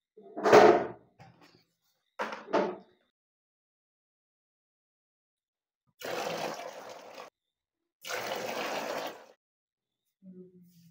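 Water is poured into a homemade plastic-drum air cooler in two steady splashing bursts of about a second each, amid scattered knocks and handling clatter in an otherwise quiet room.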